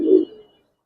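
A single short, low coo from a male Giribaz highflyer racer pigeon, close and fairly soft, fading out quickly into silence.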